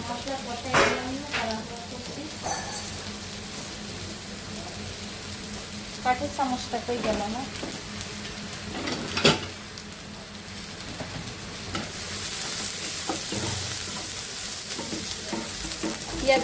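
Onions frying in a pan give a steady, moderate sizzle with scattered stirring knocks, under faint talk, the hiss growing brighter near the end.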